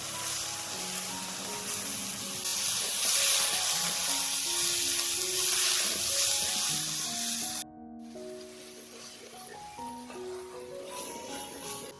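Chopped onion with green chili and asafoetida fries in hot oil, a steady close hiss and sizzle under soft instrumental music, easing briefly before continuing.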